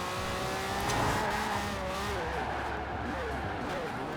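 British classic car on sports tires in Forza Horizon 4, engine revving hard as it accelerates and drifts, with tire squeal woven through the continuous roar while someone talks over it.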